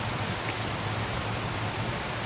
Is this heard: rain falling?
yes